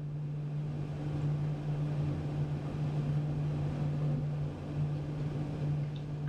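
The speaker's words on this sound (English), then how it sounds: "As you drive across the bridge, it makes kind of like a humming sound" A car drives across the steel grate deck of the Irvin Cobb Bridge, also called the Brookport Bridge, from Kentucky to Illinois. Its tires make a steady, loud, droning hum with a strong low tone that runs throughout without a break.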